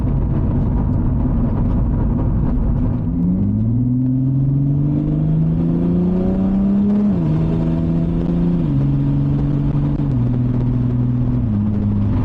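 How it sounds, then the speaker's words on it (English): Turbocharged VR6 in a Mk5 VW Golf R32 with a DQ500 gearbox kicks down under acceleration, the engine note rising through several steady upshifts with a deep rumbling drone from inside the cabin. "that was a slight kick down in drive, just to show you what it's like"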